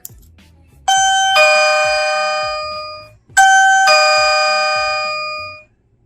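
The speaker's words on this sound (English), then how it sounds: "We heard the first one, sound like a kind of a typical doorbell." A battery-operated Philips wireless doorbell chime, model 498968, rings loud and clear twice: each ring is a two-tone ding-dong that rings out and slowly decays, with no talking.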